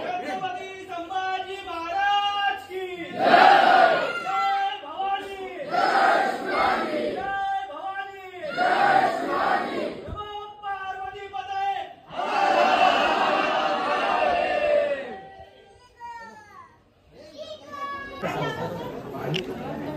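A large crowd of visitors packs a grand Chhatrapati Shivaji Maharaj temple in Maharashtra on a busy Sunday, loud voices rising in repeated bursts of chanting and shouting with brief quieter gaps between.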